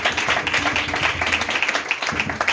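Congregation clapping and applauding in a church after a couple is blessed, a dense, steady patter of many hands filling the room, with a few voices faintly mixed in.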